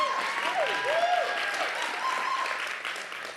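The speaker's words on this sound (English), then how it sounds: "give them a round of applause." An audience at a racial equity summit evening claps in a dense, continuous round of applause, with a few faint vocal calls and tones drifting over the clapping.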